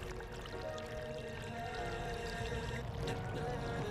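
Water pouring steadily out of a 1966 Chevrolet C10 gas tank, a continuous close gurgling flow with no voices.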